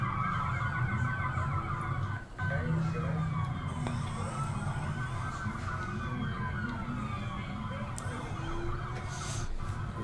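Police patrol car sirens near Bayfront Park in Miami, with several emergency vehicles wailing together over steady city traffic and crowd noise; the sirens sound fairly close and continuous, with a brief dip in level partway through.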